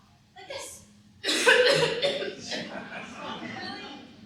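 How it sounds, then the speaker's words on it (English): A young woman in a period drama gives a deliberate demonstration cough as a signal, then short bursts of laughter-like vocal sounds follow close and clear. "I'll give you a cough. Like this."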